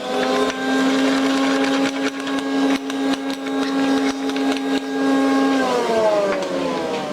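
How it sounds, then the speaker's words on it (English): A powered cutter trimming and chamfering the top edge of a pipe, a steady motor whine with a strong sustained tone and intermittent grinding bursts, winding down in pitch near the end. "we get to come in and cut off this top edge here a little bit and chamfer it in"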